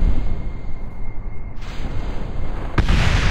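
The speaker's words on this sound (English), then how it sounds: "We're launching bombs in 4," Bombs launched from an aircraft in Kerbal Space Program 1.0 fly off and explode, a steady low rumble that rises into a loud, broad blast near the end.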